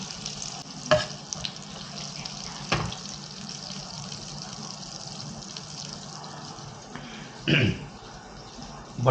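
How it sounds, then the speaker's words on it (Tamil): Butter melts and sizzles in a pan as a soft, steady frying hiss, broken by a few sharp clunks and scrapes from utensils close by. "பட்டர் வந்து நம்ம இதில் போட்டிருக்கோம் பாருங்கள்."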